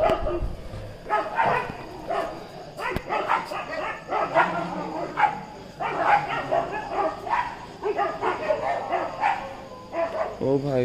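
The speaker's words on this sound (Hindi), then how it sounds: "कुत्ते भौंकना स्टार्ट हो गए गाइस।" Several dogs bark and yip in bursts along a road at night, repeated yaps and whimpers close by, with people talking over them.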